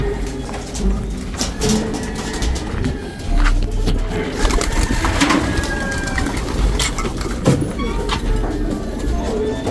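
Ice pigeons coo repeatedly in a loft, soft rolling calls overlapping from several birds close by, with scattered shuffling and fluttering around them.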